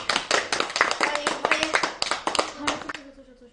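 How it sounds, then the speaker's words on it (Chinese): A small group in an office applauding to welcome a new colleague, a loud burst of close hand clapping that thins toward the end, with voices underneath. "大家掌声欢迎"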